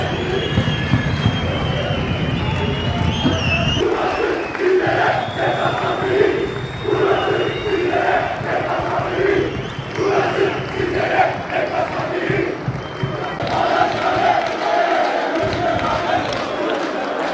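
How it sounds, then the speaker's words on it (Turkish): Stadium crowd at a football match in Kırıkkale cheers and applauds as the teams come out, a sustained roar of voices with chanting and clapping swelling and dipping throughout. "şu anda gördüğünüz gibi alkış var"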